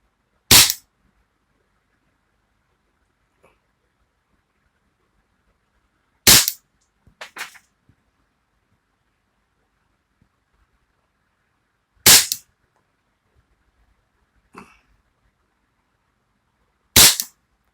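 Four sharp shots from a Taurus PT92 pistol fired indoors, spaced several seconds apart, each a loud crack with a short roomy decay, with faint clinks between them.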